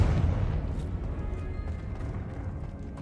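Confringo blasting spell fired in the video game Hogwarts Legacy, a heavy rumbling explosive boom that starts loud, then settles into a sustained low roar lasting a few seconds.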